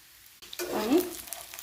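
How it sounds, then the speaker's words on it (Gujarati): Leftover roti patra fry in a pan until crisp, a soft broadband sizzle rising after a short quiet start and holding steady at moderate loudness, close by with no talking. "આ પાત્રાને ક્રિસ્પી થવા દઈશું"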